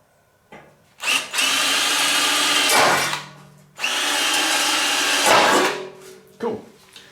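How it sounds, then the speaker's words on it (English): A power drill bores holes through a riding mower in two long bursts, each spinning up with a loud, close whine that strains and grinds before cutting off, with brief pauses and no talk. "we'll drill some holes through here"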